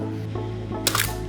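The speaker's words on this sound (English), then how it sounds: "I cocked the shutter but didn't advance the film." Single-lens reflex film camera being cocked and fired for a multiple exposure, a crisp mechanical shutter click near the end over a steady low background hum.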